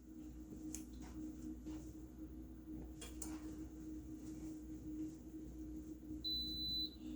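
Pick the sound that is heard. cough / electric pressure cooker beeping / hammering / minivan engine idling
electric pressure cooker beeping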